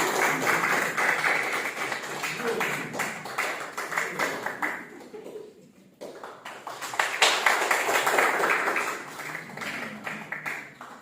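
Sustained applause from an audience at a literary book event honouring guests, dense crowd clapping that dips briefly midway and then swells again.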